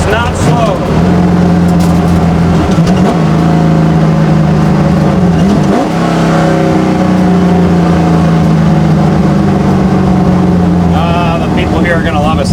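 A loud 1966 Ford Mustang race car engine revs close by, its deep, rough V8 note rising and falling through several throttle swells and gear changes over a continuous roar, with voices talking over it.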